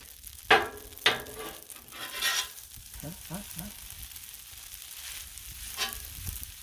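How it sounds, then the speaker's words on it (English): Beef stir fry on a Blackstone griddle, with a spatula stirring and scraping it in a few sharp clanks and scrapes over a steady low sizzle. "A little bit more stirring, because, you know, stir fry"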